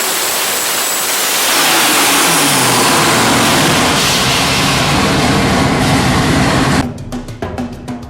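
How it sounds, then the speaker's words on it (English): Twin-turbo 572 Chrysler Hemi, an all-aluminum engine with billet intake and 16 injectors, revving: a loud, dense roar that builds and holds for several seconds, then cuts off abruptly into choppy idling pulses. "This is the twin turbo 572 Chrysler Hemi. It's an all aluminum engine."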